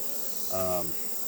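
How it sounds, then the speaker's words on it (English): Honeybees on a hive frame during a mite check: a steady low hum of the colony, with one brief, louder buzz swelling up as a bee passes close and then fading. "There's a lot of bees."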